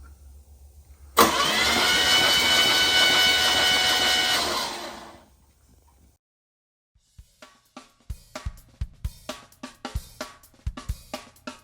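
A Pontiac 350 engine roars loudly for about four seconds and then dies away, followed by a run of sharp, irregular clicks and knocks from close by.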